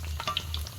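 Pitha frying and puffing up in hot oil on a stove, with a soft, continuous sizzle over a brief moment and no voices.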